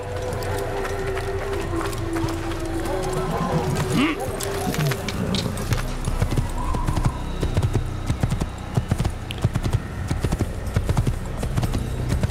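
Horse hooves clip-clop steadily in the Assassin's Creed video game, a continuous rhythmic clatter of a ridden horse under ambient game sound, with a voice talking over it at times.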